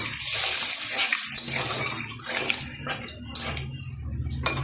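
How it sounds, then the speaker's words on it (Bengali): Water pours into a pan of chicken curry being cooked: a loud rushing splash at first that thins out, with a few clinks of utensils against the pan near the end, close up and without talk. "এখন দিয়ে দিচ্ছি পরিমাণ মতো জল"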